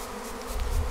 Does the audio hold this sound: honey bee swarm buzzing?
yes